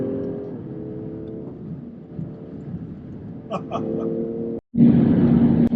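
A BMW M340i cruises on an expressway and drops a couple of gears. A low engine and road hum sits under the first part, then the engine note swells and grows louder toward the end. A voice talks over part of it.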